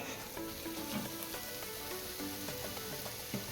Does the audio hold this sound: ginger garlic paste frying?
yes